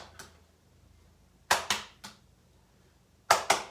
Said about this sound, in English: Can you clap twice?